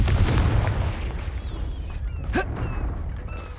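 A Confringo fire spell blasts in Hogwarts Legacy, a loud booming burst that rolls into a long fading rumble, with a faint whoosh in the middle.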